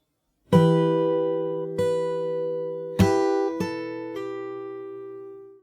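Close, solo acoustic guitar played fingerstyle runs through a phrase of a song from the top, a strong opening pluck followed by a few more picked notes that ring out and slowly fade.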